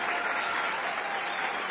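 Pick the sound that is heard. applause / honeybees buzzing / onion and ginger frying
applause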